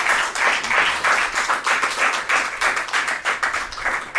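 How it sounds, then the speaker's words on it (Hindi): An audience at a show claps to welcome a guest pastor, giving sustained, lively applause with a pulsing, uneven rhythm of many hands over the whole stretch. "तो आप सबकी भरपूर तालियों में मैं दावत देना चाहूँगा आज के हमारे गेस्ट पास्टर सरफराज विलियम साहब।"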